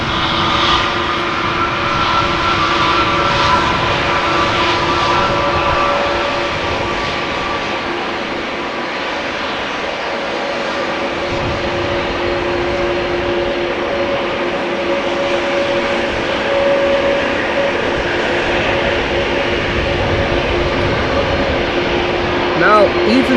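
A six-year-old Irish-registered airliner, EI-KDE, at Amsterdam Schiphol Airport produces a continuous loud engine roar with steady whining tones, unchanging across the stretch and heard alone without voices.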